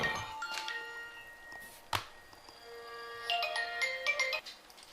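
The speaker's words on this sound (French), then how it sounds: "comme je le disais avant que le téléphone ne sonne" A telephone rings with a bright, melodic electronic ringtone, two rising phrases of chiming tones with a soft knock between them, heard fairly close in a quiet room with no talking.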